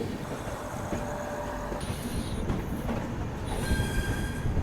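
A train pulls into Ludhiana station, loud steady rolling rumble with high metallic wheel squeals and brake whines over the continuous roar, no talk.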